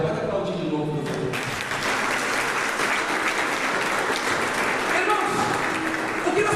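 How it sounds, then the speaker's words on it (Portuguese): Church congregation at a Catholic prayer group meeting applauding, a dense sustained patter of clapping filling the room throughout, loud and continuous with some voices mixed in. "Pode aplaudir de novo, por favor."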